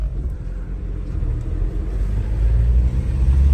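A car pulls out of its parking spot at a farm, its engine a low, close rumble that grows louder and rises as it accelerates away, no voices.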